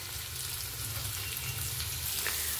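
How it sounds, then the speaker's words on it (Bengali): Two large chopped onions with chopped ginger frying in a pan for restaurant-style mixed fried rice, a soft steady sizzle heard close. "এবারে দিচ্ছি বড় সাইজের দুটো পেঁয়াজ কুচি।"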